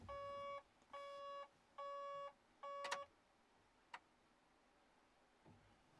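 Warning beeps from an old excavator's cab as it is being revived: four evenly spaced, steady electronic tones, each about half a second long, followed by a couple of short clicks in a quiet setting.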